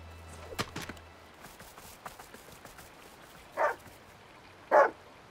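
A cartoon dog in a Polly Pocket episode barks twice, loud and close with a gap between the barks, after a few softer yips and thumps in a quiet scene with a river setting.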